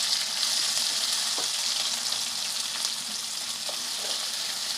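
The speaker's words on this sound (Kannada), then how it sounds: "ಇವಾಗ ನಾನು ಈರುಳ್ಳಿ ಸೇರಿಸ್ಕೊತಾ ಇದ್ದೀನಿ" Sliced onions fry in hot oil in a pan with kasuri methi for a chicken gravy masala, producing a continuous, dense, close sizzle with faint occasional stirring taps.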